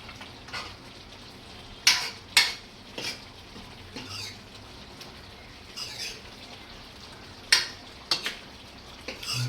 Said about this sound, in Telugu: వేసుకున్నాక తిప్పేసుకుందాం మొత్తం.